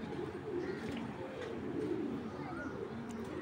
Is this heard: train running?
no